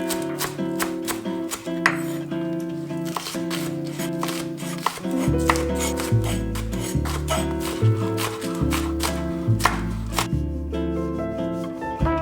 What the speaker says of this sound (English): I started by chopping up some spring onions and chives